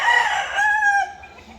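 A rooster crows loudly and close by, with chickens clucking around it before the call trails off.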